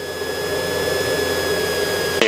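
A small piston aircraft engine drones steadily in flight on a sightseeing route from Las Vegas to the Grand Canyon, with the power being reduced, as a continuous broadband hum with sustained tonal whines that cuts off abruptly at the end.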